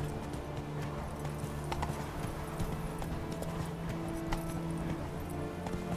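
A horse's hooves gallop off-road in The Witcher 3, a continuous busy clip-clop under steady ambient noise at moderate level, with the rider urging the horse on.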